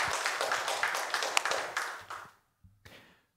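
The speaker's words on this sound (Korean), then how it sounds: "하나님께 영광의 박수 올려드리겠습니다." A church congregation claps together in a dense burst of applause that fades after about two seconds, followed by a faint single tap.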